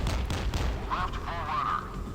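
A deep, booming gun blast from the Kurama destroyer in the game Modern Warships opens the moment, with someone speaking over the fading rumble.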